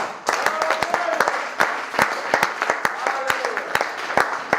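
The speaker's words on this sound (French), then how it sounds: "Acclamons la parole" A church congregation applauds together, a dense patter of many hands clapping with sharper individual claps popping out, steady and fairly close for the whole stretch.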